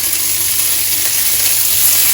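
Hot oil sizzles and crackles in a pan as zucchini fries, a loud, steady hiss close up that continues without a break.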